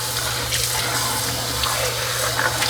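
Water gushes steadily out of the emptied tray of a Dyson V15s Detect Submarine wet-dry vacuum, a continuous close splashing pour with no talk.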